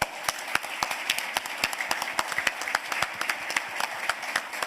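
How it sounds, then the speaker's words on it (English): An audience at an MBA executive speaker event gives itself a round of applause, with dense, lively clapping and distinct sharp hand claps popping out at close range throughout. "Give yourselves a round of applause."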